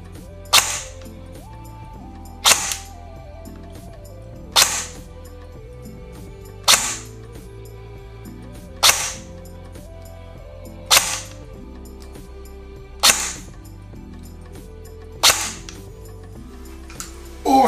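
An Evolution EVO Ultra Lite Carbine PDW airsoft gun fires single BB shots on a chronograph, nine sharp cracks spaced about two seconds apart, each alone and close with quiet gaps between.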